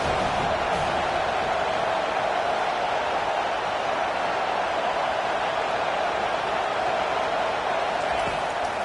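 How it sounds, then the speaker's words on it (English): Stadium crowd in College Football 25 roaring steadily on a third-down defensive stand, a dense continuous wash of cheering noise without breaks, loud and constant throughout. "Decibels rising as the crowd gets behind this defense on 3rd down."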